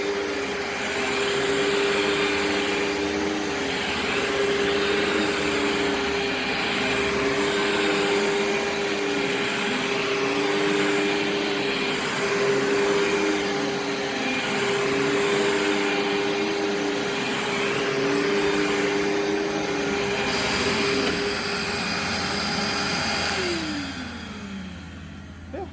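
A Bissell Plus 3553 upright vacuum cleaner runs continuously during an airflow test, a loud steady motor whine with a pulsing, wavering tone, then spins down near the end.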